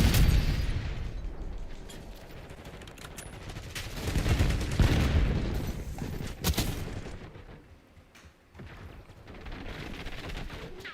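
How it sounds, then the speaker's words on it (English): Semtex grenade blasts and gunfire in the Call of Duty Black Ops 6 multiplayer shooter, loud rolling explosions and rapid shots piling up, with a brief lull before the firing resumes. "Incoming Semtex."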